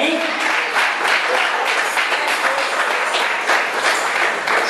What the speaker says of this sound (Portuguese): palmas bem alegres para o Senhor